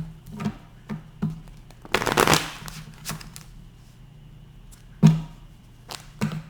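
A tarot deck being shuffled in several short riffling bursts, with one longer burst in the middle, close up and without talking.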